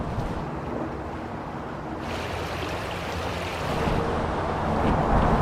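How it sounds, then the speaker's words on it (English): Water rushes steadily through a winter forest, a broad continuous noisy wash with some wind buffeting the microphone, growing slightly louder toward the end with no talking. "You hear that water running?"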